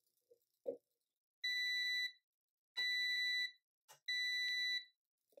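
Three long electronic beeps from a heat press timer counting down to zero, evenly spaced and clear, with a few short clicks and knocks in between and no talking.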